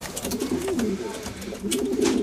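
About 40 racing pigeons cooing together nearby in a loft, a continuous soft burbling chorus with no talking.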